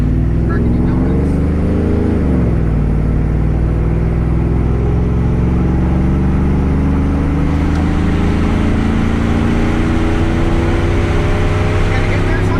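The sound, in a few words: 2004 Chevrolet Silverado 5.3L exhaust, longtube headers, Borla XR-1 muffler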